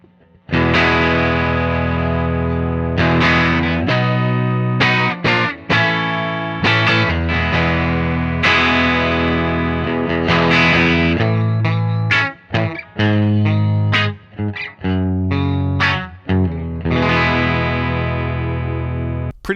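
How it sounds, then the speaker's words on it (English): Telecaster electric guitar played through a Vintage Vibe amp simulator at default settings, giving a driven, chorus-tinged tone; strummed chords and single-note lines ring out loudly and continuously with brief pauses, no talking. "I now have my Telecaster going into the Vintage Vibe amp"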